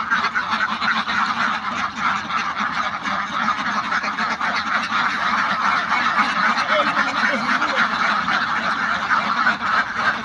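Laying ducks quacking and honking loudly and continuously, a dense close flock calling with no talk.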